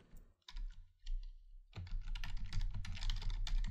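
Computer keyboard typing: a few quick key clicks, a pause, then a denser, steady run of keystrokes close up, with no voice over it.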